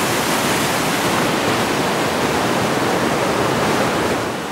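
The Cheakamus River south of Whistler rushes steadily beside the listener, a loud, dense, unbroken roar of flowing water with no other sounds.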